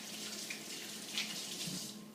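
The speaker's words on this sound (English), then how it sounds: "wash my hands" Water runs steadily from a kitchen tap while hands are washed beneath it, a close, even splashing hiss with slight shifts as the hands move.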